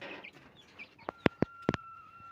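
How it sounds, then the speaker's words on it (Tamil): Free-range country chickens, hens and a big rooster, give a few soft clucks and then a burst of sharp, loud squawks and calls close by, with no talk. "கோழி சேவல் நிற்கிது, இதுதான் பெரிய சேவலுங்க."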